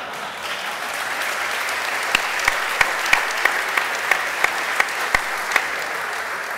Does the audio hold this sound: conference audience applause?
yes